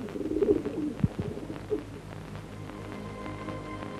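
Pigeons coo in low, soft, repeated calls, clustered near the start with a thump partway through, then fading into a quiet murmuring background.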